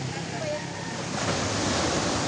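Sea surf rolls onto the shore in a continuous broad roar, loud and close, mixed with wind buffeting the microphone.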